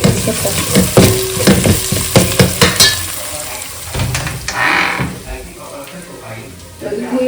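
Masala for squid curry fries in a pan, a loud close sizzle with rhythmic scraping and clanking of a spatula against metal, then a quieter hiss; a voice talks over part of it.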